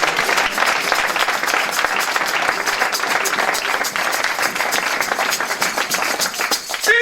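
A church congregation applauding: dense, sustained clapping from many hands, steady and fairly loud throughout, with no clear speech.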